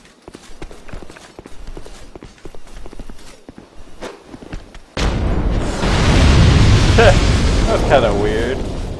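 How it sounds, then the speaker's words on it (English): Scattered light impacts and footstep-like taps, then a sudden loud explosion in Dark Souls 2 bursts in and rumbles on with crackling debris. "my explosion didn't get it"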